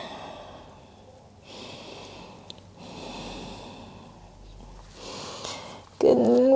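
During a yoga forward fold, breath is pushed out through the nose and mouth in several audible exhales, soft rushing puffs separated by pauses, close and clear, ending with a louder, stronger breath.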